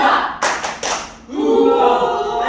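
A group claps a few sharp, quick beats in rhythm as part of a morning cheer, followed by voices chanting together.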